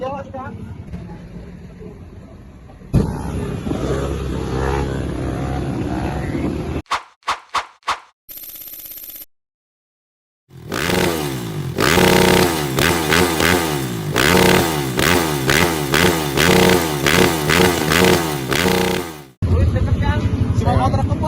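Supermoto dirt bike engine revving hard and loud in repeated rising and falling bursts, broken by brief gaps, with people talking over it.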